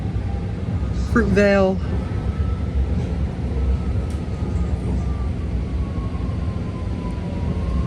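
A six-car BART Green Line train pulls out of Oakland Coliseum Station with a steady low rumble and a brief rising tonal whine near the start, while a voice briefly announces the next station.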